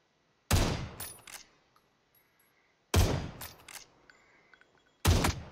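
Three loud, sharp gunshots from the video game PUBG, spaced a couple of seconds apart, each a sudden blast followed by a short echoing tail.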